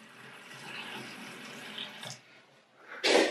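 Cold water runs from a newly installed kitchen tap in a steady hiss, briefly dropping away before a louder, splashing gush returns at the end.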